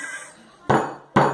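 A homemade slime of dish detergent and egg being beaten in a bowl, heard as two loud, abrupt bursts of clattering whisking after a quieter stretch with faint voice in the background.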